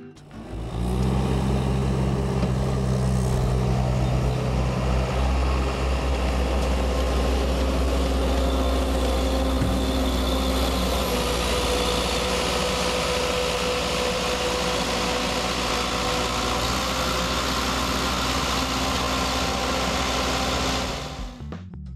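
An ASV Posi-Track SR80 compact track loader, an 80 horsepower machine, drives repeatedly over the same patch of ground, its diesel engine droning loud and steady up close for the whole stretch before cutting off at the end.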